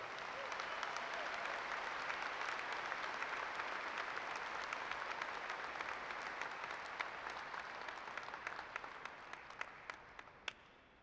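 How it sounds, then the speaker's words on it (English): Sustained applause from a seated audience at an education graduation ceremony for award-winning teachers, dense and even throughout, with a few sharper individual claps standing out as it tapers near the end. "Let's have a round of applause for our Wolf Award winners."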